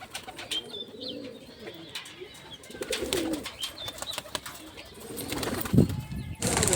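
A released Kalanka pigeon coos low and soft while wings flap in bursts, with background outdoor clatter and a sharp flurry of wingbeats near the end.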